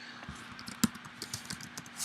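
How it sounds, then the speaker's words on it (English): Light keystrokes on a computer keyboard as a password is entered, a sparse run of quiet clicks with one sharper tap, close and faint in a quiet room. "We're typing the password."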